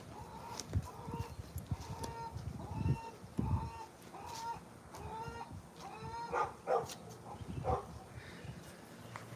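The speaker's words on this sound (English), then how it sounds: "Chicken with a tomato on the loose." A chicken loose in a backyard garden clucks repeatedly in short rhythmic bursts, fairly close, with scattered scratching and rustling sounds in the background.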